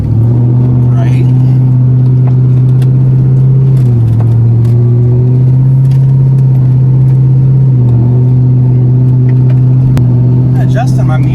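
A car engine runs loud and close as a steady drone, with small shifts in pitch as it pulls away and picks up speed, while voices talk inside the car.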